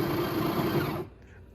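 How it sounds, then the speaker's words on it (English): A home espresso machine grinds beans for a single Americano, a loud steady whirring buzz that runs for about a second before cutting off abruptly into near silence. "That is the sound of the beans grinding that single cup worth"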